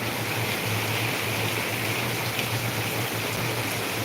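A downpour in Ahilyanagar keeps up a continuous rushing patter of heavy rain on nearby surfaces, even in level throughout and free of talk.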